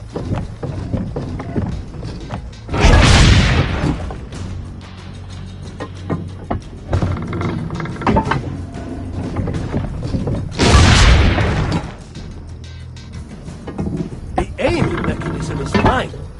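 Two heavy booming cannon shots in Assassin's Creed Brotherhood, set several seconds apart, loud and close, with game ambience, footsteps and hoof-like clopping between them and talk running throughout.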